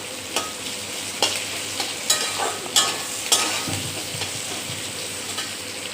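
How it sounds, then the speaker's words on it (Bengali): Crushed onion and garlic fry in a pan. A steady close sizzle runs underneath while a spoon scrapes and stirs in irregular strokes, with no voices. "হালকা করে ভেজে নেব।"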